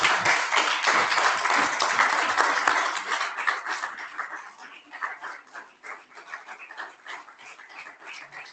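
An audience standing to applaud a family at a public event gives dense, sustained clapping that is loud at first and then thins into scattered, fading claps.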